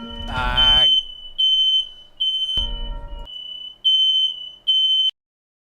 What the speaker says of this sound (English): Stupid smoke detectors in our house are jumpy whenever someone's cooking something